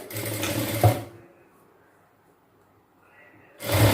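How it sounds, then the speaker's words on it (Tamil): A sewing machine stitching the lining of a blouse runs in two close, loud whirring bursts, one at the start and one at the end, with a near-silent pause between them. "கீழே மட்டும் அப்படியே தையல் போட போகிறோம்."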